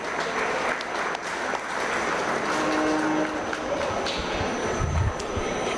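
Sustained audience applause fills an indoor livestock show arena during a stocker feeder cattle competition, steady and dense, with a low rumble beneath it.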